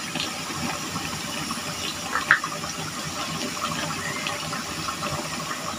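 Shrimp go into a hot pan of kochu shak (taro leaves), giving a steady wet hiss and bubbling with a brief sharp splash partway through; no one speaks.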